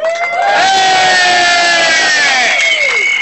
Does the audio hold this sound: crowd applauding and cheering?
yes